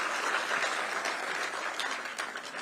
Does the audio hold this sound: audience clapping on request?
yes